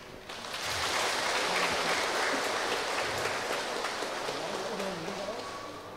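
Applause from mothers gathered at a parish family day celebrating the feast of Saint Monica, a crowd clapping that swells in after a quiet start and holds steady, with voices murmuring underneath.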